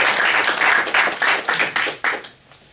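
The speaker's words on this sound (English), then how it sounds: "Another round of applause for Roy." An audience at a Toastmasters-style meeting applauds a speaker with steady, moderately loud clapping that thins out and fades near the end; no voices over it.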